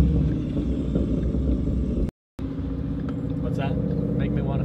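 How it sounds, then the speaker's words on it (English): A Ford Mustang engine runs with a deep, loud, steady rumble, broken by a brief cut, then resumes with a voice talking faintly over it. "And we'll let Trevor give the Mustang a rip."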